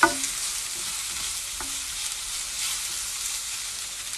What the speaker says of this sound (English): we're just going to stir fry it for another minute